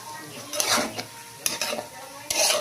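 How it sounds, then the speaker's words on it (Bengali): Cashews and raisins being stirred in a kadai for fried rice: a spoon scrapes and clinks against the pan in several quick bursts over a faint sizzle. "কাজু কিশমিশটা একটু কড়াইতে নেড়ে নিচ্ছি"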